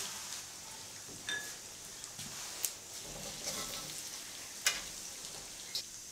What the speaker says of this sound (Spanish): Mirá cómo empezó a hervir todo junto